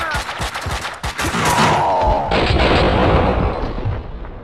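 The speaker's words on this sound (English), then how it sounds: "Someone must have heard the gunfire." Heavy gunfire in Max Payne 2: a quick burst of close, sharp shots followed by a loud sustained roar of rapid fire and blasts that fades slightly at the end.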